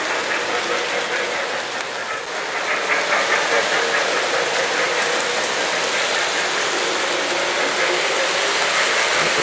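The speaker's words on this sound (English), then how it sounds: "Trains make so much noise when it goes through." A Lionel Polar Express model train runs along the track of a Christmas display, a dense, steady mechanical clatter and whir that grows slightly louder partway through and then holds at a constant level.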